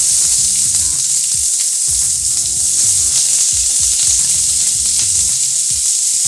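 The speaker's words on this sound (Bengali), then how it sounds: "হয়ে গেছে, লাল লাল হয়ে গেছে, এবার দিচ্ছি পেঁয়াজ কুচি।" Chopped onion sizzles loudly in hot oil in a home kitchen pan, a continuous close frying hiss with occasional stirring scrapes and clatter, no voices over it.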